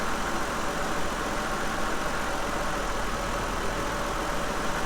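A Ford Escape engine holds a high idle with a P1506 idle-air fault, a steady, even mid-to-low hum running unbroken and fairly loud throughout, with no voices.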